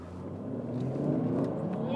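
A 2015 Mercedes-Benz C400 accelerates hard in Sport Plus mode, its engine note climbing steadily and growing louder over two seconds, heard from inside the car.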